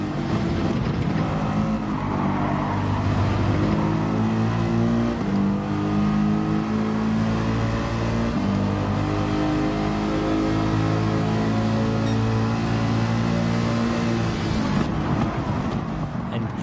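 GT3 race cars, including Porsche and Ferrari models, roar continuously in a racing video game, with layered engine tones rising and falling through gear changes as several cars run close together.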